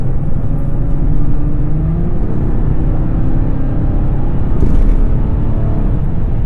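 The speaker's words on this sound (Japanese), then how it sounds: "ハイブリッドではあるんだけど、この 3500cc エンジン、さすがの大排気量で底力がまるっきり違います" A Toyota Crown hybrid with a 3.5-litre V6 pulls steadily from inside the cabin, a low, smooth engine drone and road rumble holding constant with a slight swell midway.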